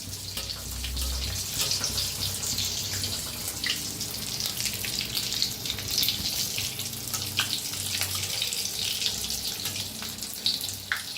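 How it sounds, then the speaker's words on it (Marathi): Vada pav frying in hot oil in a home kitchen, a steady close crackling sizzle with dense hissing bubbles that runs unbroken throughout, with no voices. "आता छान तळून घ्यायचं."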